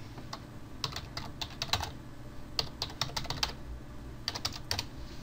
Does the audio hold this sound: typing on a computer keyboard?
yes